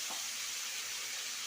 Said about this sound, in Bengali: এটা মিক্সির জার ধুয়ে সামান্য জল দিলাম